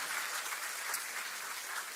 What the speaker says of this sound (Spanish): Dale un fuerte aplauso al que vive por siempre, nuestro Señor Jesucristo.